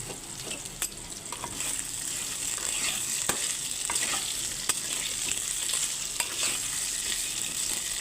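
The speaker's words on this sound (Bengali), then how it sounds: "দিয়ে আমি আলুগুলোকে একটু ভাজা ভাজা করে নিচ্ছি" Salted potato pieces fry in oil in a pan while being stirred, a steady close sizzle broken by irregular scraping clicks from the spoon, with no talking.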